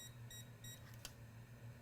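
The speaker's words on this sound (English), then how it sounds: "that short voltage injection tool is beeping because we have a short" A short voltage injection tool beeps repeatedly in a steady rhythm of quick pulses while it traces a short on a Dell Alienware laptop board. The beeping is faint over a low electrical hum.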